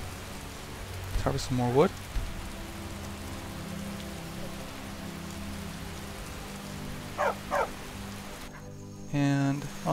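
Steady rain falling outdoors on Skyrim's plains on a cloudy day, a constant close hiss of drops throughout, with someone speaking briefly over it in a few spots.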